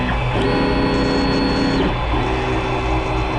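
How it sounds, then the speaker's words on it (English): A Creality Ender 3 Pro 3D printer laying down a purge test line, its stepper motors whining in steady tones that shift pitch as the head moves, loud and close over a constant mechanical hum. "Does a little bit of a test here to get some of the junk out of the printer."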